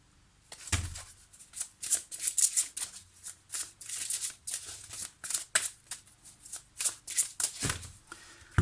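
A deck of tarot-style cards is shuffled by hand close up in a quiet room, a run of soft riffling flicks and slaps in uneven bursts, ending with a cut of the deck.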